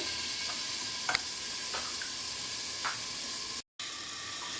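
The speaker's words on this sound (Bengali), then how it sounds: "আমি ঢাকা দিয়ে দিলাম আবার সিমে আছে সিদ্ধ হবে" Pumpkin and chickpea curry simmers under a lid in a pot, giving a steady close hiss of gentle sizzling with a few soft clinks, and no speech.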